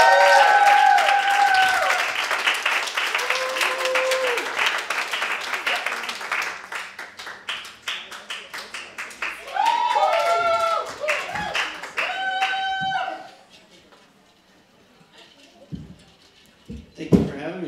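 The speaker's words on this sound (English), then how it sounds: "Let's give a big, big warm round of applause for JT Bullock." An audience at an HIV/AIDS awareness open mic applauds a featured poet with sustained clapping that fades out, mixed with a speaker's voice and cheers, before the room falls quiet.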